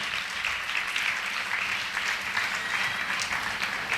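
A congregation at a church sermon claps continuously, a dense, even patter of many hands with no break.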